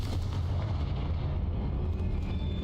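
A Confringo fire spell bursts in Hogwarts Legacy, a dense, loud, sustained rumbling blast with heavy low-end roar that fills the whole moment without pause.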